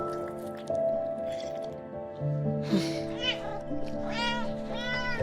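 A kitten gives a couple of short, clear meows toward the end over soft background music, after a brief spoken line.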